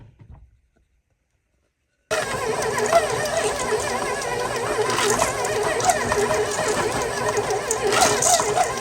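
Electric mixer beating soft red velvet cookie dough, silent at first, then a steady loud whirring motor hum running continuously to the end.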